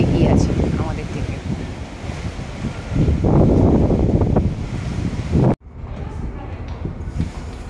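On a ship sailing across the Baltic Sea toward Estonia, strong wind buffets the microphone over a steady wash of waves, loud and close, and a voice talks over it until the sound cuts out sharply near the end.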